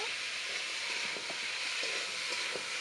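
Flat beans and potatoes fry in hot oil with a steady, even sizzle and hiss, broken by a few faint stirring clicks and no speech.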